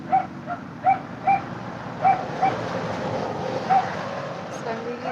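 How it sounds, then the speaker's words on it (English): A pet dog barking repeatedly indoors, several sharp yaps spread irregularly over a few seconds, heard behind other household noise. "So I'm really sorry about the barking and all the noises."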